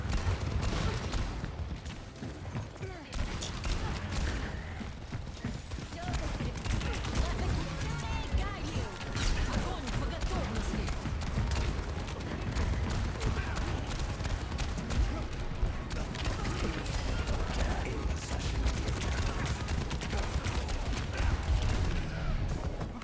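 Dense, continuous gunfire and ability effects from a hectic Overwatch fight, with Reaper among the heroes firing, sustained and loud throughout, with no clear separate shots standing out.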